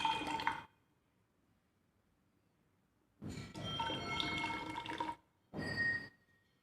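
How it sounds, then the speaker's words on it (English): Water is poured into a graduated glass measuring cylinder in two separate bursts of splashing and gurgling, with a faint glassy clink at the start and quiet pauses between, close and alone. "here I'll take the 50 ml of water in measuring cylinder, which is graduated one"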